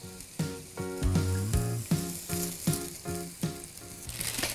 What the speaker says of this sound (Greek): πάμε να τηγανίσουμε ένα μικρό γκρεμμύδι ψιλοκομμένο και πολύ λίγο σκορδάκι